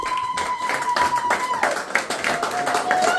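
Audience at a wedding evening reception clapping to welcome the bride's family, a steady patter of hands throughout with scattered voices and a tonal whistle or feedback line running under it.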